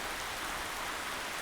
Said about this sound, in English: Throw a rain sound in a video.